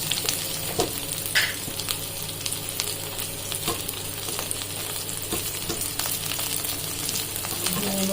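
Bottle gourd greens fry with onion and green chilli in mustard oil, giving a continuous close sizzle with occasional stirring scrapes and small pops.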